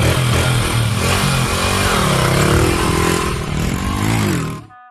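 A motorcycle engine roars steadily and loudly at close range, its pitch wavering as it revs, then cuts out abruptly at the end.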